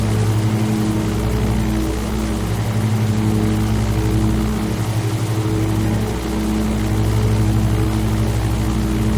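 Propeller aircraft engines in a flight simulator with the throttles eased back, a steady droning hum with a low, even tone, loud and continuous throughout, no voices.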